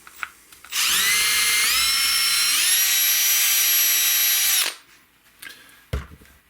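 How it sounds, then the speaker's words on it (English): A cordless drill bores a 1/8 inch hole into a hardwood guitar neck for a Stratocaster-style body, a loud steady whine lasting about four seconds that rises in pitch partway through, then cuts off, followed by small clicks and handling noise. "I'm going to drill a 1/8 inch hole right beside it."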